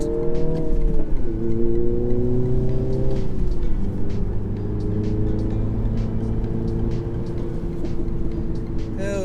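A manual car, the last one ever made, accelerating hard out of a corner: engine revs climbing in rising sweeps, then a gear change and a sustained loud pull, close and dominant throughout.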